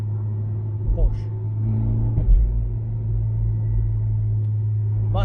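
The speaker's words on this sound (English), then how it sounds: "It's definitely too loud with no silencer." A Honda CR-Z with a Spoon N1 exhaust and no silencer idles with a steady, deep, droning rumble. The sound is loud and close, with a slight swell partway through and no clear revs.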